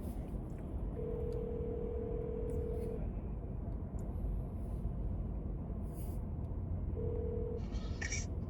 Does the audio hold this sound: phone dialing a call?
yes